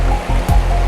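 Water pours over a weir on the Hampshire Avon river, a loud, close, continuous rush with no voices, heard for under a second.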